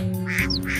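A duck gives a couple of short quacks, close and clear, over a low musical background.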